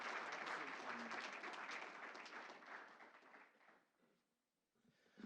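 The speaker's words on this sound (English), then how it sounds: "let's give them another round of applause" An audience at a school board meeting claps in a round of applause that starts full and steady, then thins and fades away, leaving a faint voice at the end.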